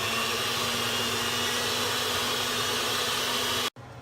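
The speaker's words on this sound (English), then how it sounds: "Next, we whisk the dry ingredients into the wet ingredients." A mixer whisks dry cookie ingredients (flour, vanilla, salt, baking soda) into the wet ingredients, making a steady, loud motor whir that runs unbroken and then stops abruptly near the end.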